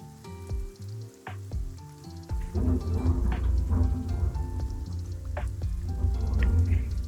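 Steady rain in a haunted hotel video game, a dense hiss and patter with low rumble of thunder beginning after a few seconds of quieter ambience, with no talk over it.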